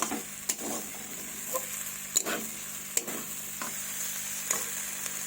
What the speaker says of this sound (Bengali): খুব সুন্দর ভাজা হচ্ছে।